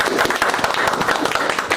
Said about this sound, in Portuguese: Vamos dar uma salva de palmas para a Super Quinta.